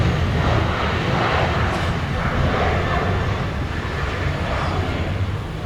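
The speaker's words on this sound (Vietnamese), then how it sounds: "chúng ta đang được chứng kiến chiếc Boeing 737 của Siemens Air cất cánh rời khỏi sân bay Tân Sơn Nhất" A Boeing 737 takes off from Tan Son Nhat airport, its jet engines giving a steady, loud broadband roar that holds level throughout with no talk over it.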